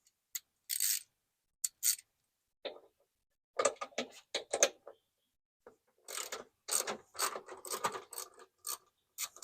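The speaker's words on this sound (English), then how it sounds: "you'll need a socket wrench. Okay, and a number 14 socket" A socket wrench with a 14 socket loosens seat bolts in a Honda Element, giving quick bursts of sharp ratcheting clicks with pauses between, close and fairly quiet.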